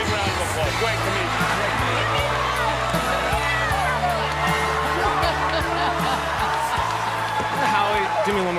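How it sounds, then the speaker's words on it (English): Studio audience at a talent show audition applauding and cheering for a comedian, a dense, loud wash of clapping and crowd noise with whoops running steadily throughout. "Big round of applause for Howie."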